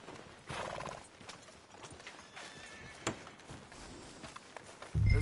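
Horse hooves clip-clop at a walk in the video game Red Dead Redemption 2, faint and uneven under ambient game sound, with a louder thump at the very end.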